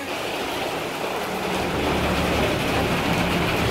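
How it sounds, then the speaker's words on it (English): Heavy rain pours down steadily and loud on an outdoor street in Terengganu, Malaysia, a dense continuous hiss with no voices. "Rain is coming down hard,"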